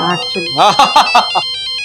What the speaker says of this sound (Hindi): आशा ताई का फोन आ गया